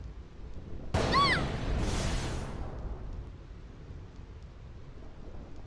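A thunder and lightning storm in Final Fantasy X: a sudden sharp lightning crack followed by a rolling rumble that fades into steady storm noise.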